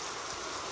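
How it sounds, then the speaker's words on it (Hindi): Heavy rain falls as a dense, steady hiss for a brief moment, close and continuous with no other sounds. "और बहुत ज़्यादा बारिश स्टार्ट हो गई है।"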